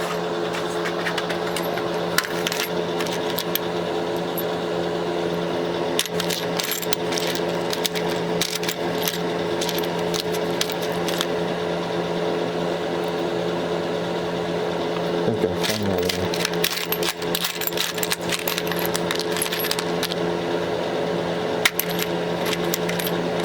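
Small metal washers clink and jingle in a steady series of rattling taps as someone rummages for a flat washer in a garage, working on a 1983 Yamaha YZ80, with a faint hum underneath.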